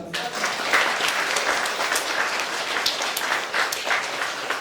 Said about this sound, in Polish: proszę o brawa dla każdego